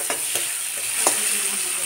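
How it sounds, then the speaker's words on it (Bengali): Chopped onions frying in a little butter are stirred with a few distinct scraping strokes over a soft, steady sizzle, close by and with no talking. "পেঁয়াজগুলো হালকা নেড়ে নেব।"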